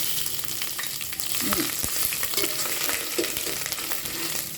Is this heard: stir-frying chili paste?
yes